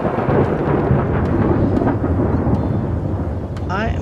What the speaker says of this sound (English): I am going to turn down the sound of the thunder.